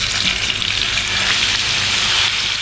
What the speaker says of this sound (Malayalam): ഇനി ചിക്കൻ ഫ്രൈ ചെയ്തെടുക്കാം.